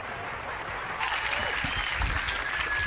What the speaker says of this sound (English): How about a nice round of applause for Mr.